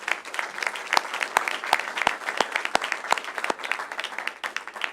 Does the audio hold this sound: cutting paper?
no